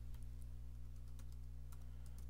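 A network name is typed on a computer keyboard, a few soft, scattered key taps over a steady electrical hum, faint and close, with no talking.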